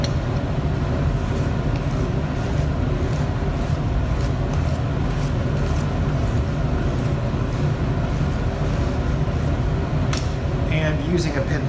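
Pottery wheel spinning with a steady, dense mechanical hum under a clay slab on a round bat, a continuous motor drone with faint scraping from a pin tool cutting the clay, and a voice talking over it.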